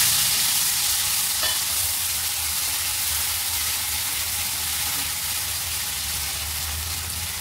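Tomatoes and mixed vegetables frying in a pan for veg biryani, with a steady close sizzle and hiss and the rustle of stirring running throughout, loud and continuous with no talking.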